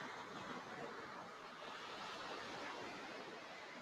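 Ocean waves wash onto Lagundi beach in South Nias, a steady, soft, distant roar of broadband surf with no voices.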